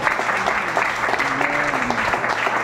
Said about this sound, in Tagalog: Palakpak niya sa Ginoo.